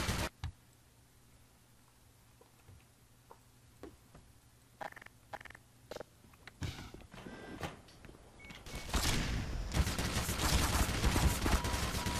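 Scattered clicks and single shots early on in the game Black Mesa, then a dense burst of rapid gunfire that builds and stays loud to the end.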